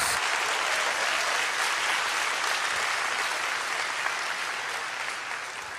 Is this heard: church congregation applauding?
yes